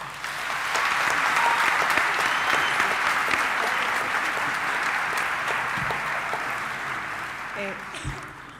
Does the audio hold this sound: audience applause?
yes